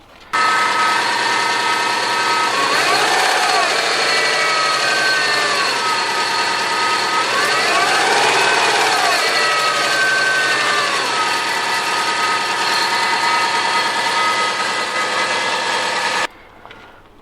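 A Subaru EJ207 STI Forester engine idles steadily and loudly up close, with a continuous mechanical rattle and faint knocking that may come from a spun bearing, running without break until it cuts off near the end.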